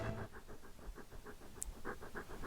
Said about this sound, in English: he's just heavy breathing into the microphone